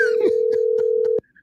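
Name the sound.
telephone ringing on a call to Chick-fil-A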